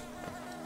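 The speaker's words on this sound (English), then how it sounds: "The bees have walled me off!" Bees buzzing in the video game Hollow Knight, a steady insect drone holding for under a second, moderately loud and alone with no talk.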